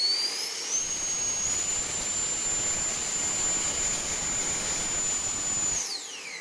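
A 3D-printed Harrier STOL model jet engine runs up to full throttle, a loud sustained whine with a rising pitch that holds steady at a high tone, then winds down near the end over broad rushing airflow noise.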